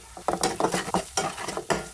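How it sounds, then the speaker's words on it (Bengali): Spice masala with ground coriander, garam masala, cinnamon and whole cardamom frying in a pan for an egg curry with papaya, potato and lentils, with a steady sizzle under repeated rhythmic stirring scrapes, close and fairly loud. "মশলাটা ভাজা হয়ে এসেছে"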